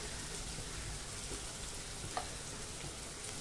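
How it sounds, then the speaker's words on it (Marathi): Chopped onion frying with salt in a pan for a tomato-onion vegetable dish, giving a soft, steady sizzle that stays even throughout with one brief tick near the end. "कांदा जो आहे हा पटकन लालसर रंगावरती परतला जाईल आपला"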